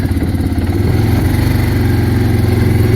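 The engine of an old Mennonite wagon idles close by, a loud, steady low rumble with an even, throbbing pulse and no revving.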